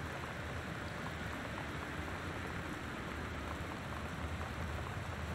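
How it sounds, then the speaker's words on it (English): Rain drumming on the windows of a house in the video game Gone Home, a faint, even patter and hiss that holds steady throughout with no voices. "That's just rain hitting the windows,"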